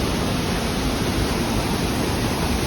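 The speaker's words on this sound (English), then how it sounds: "there's the water coming into the canal. Pretty dramatic." Water rushes into the Crinan Canal as a lock fills, a loud, steady roar of churning water like a waterfall, heard close and unbroken throughout.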